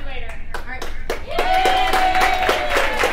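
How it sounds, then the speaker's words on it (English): Audience applause at a Plano Chamber social media speech event, a full burst of clapping swelling after a brief spoken line and holding steady to the end. "Round of applause."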